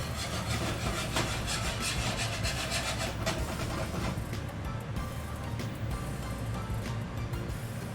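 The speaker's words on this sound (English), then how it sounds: "so make sure you whisk it up" A whisk scrapes briskly and continuously through an apple pork chop pan sauce to break up clumps, making a steady, close, rough rubbing sound without pause.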